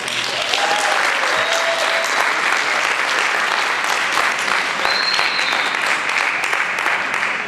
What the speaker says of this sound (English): Give a round of applause for them.